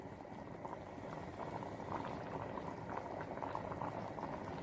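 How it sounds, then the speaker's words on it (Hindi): A pot of lentils bubbles at a steady rolling boil, a dense, continuous gurgling and popping up close, with no voices. "हम दाल को बस दो चार उबाल आने तक ही पकाएंगे"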